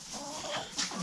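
Chickens on a farm cluck inside a barn on a frigid 7-degree day, a few soft close clucks and a brief higher squawk over a faint background, with no voices.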